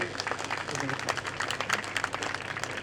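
Audience clapping at a Geeta Jayanti celebration at Geeta Dham, Jodhpur, a dense, steady patter of many hands sustained throughout at moderate distance, with talk faintly mixed in.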